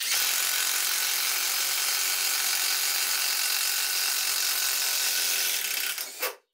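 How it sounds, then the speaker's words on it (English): A DeWALT DCF901 12-volt impact wrench runs nearby in one continuous loud, high-pitched whirring burst of about six seconds. It ends with a brief clunk and stops. "a highly sophisticated high-speed comparison featuring the DCF 901 12-volt impact wrench"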